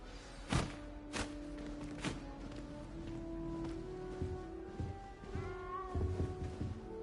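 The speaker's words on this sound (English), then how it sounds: "You don't need to be frightened, little cat." A cat meows in a Harry Potter video game, with several short mews spread over about seven seconds among soft thuds and steps against a quiet ambient background.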